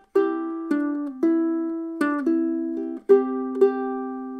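Solo ukulele playing two bars of the melody from a song: a handful of clear plucked notes with a steady, unhurried rhythm, close and alone with no voice.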